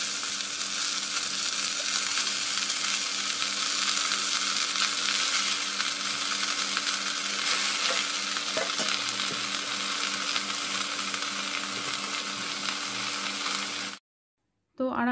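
Chatom greens frying in a pan with onion and garlic, giving a constant loud sizzle with occasional stirring scrapes that stops abruptly near the end.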